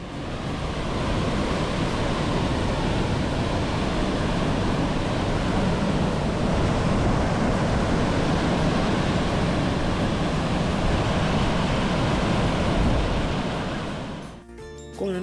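A waterfall in a Quebec park gives off a loud, steady roar of rushing water close by, holding unbroken for about fourteen seconds before cutting off abruptly near the end.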